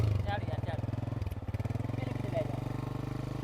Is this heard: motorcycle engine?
yes